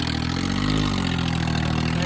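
An HMT 5911 tractor, running on three tyres, idles with a steady, close mid-pitched diesel rumble and an even throb throughout.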